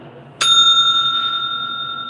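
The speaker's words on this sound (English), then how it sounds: "Ring the bell." A single sharp strike of a bell rings out close and loud, then its clear metallic tone sustains and slowly fades over the next couple of seconds with nothing else around it.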